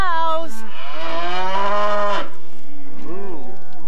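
Cows moo in a 1994 children's VHS film: one long, drawn-out low moo, then a shorter rising and falling moo. The sound is loud and close, with no speech.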